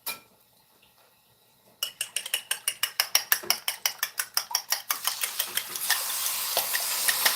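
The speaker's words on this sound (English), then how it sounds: "We got a little sizzle going on." Eggs for a garden omelet hit a hot oiled pan, starting with a clatter and quiet, then quick rhythmic scraping strokes over a rising crackling sizzle that swells into a steady bright hiss.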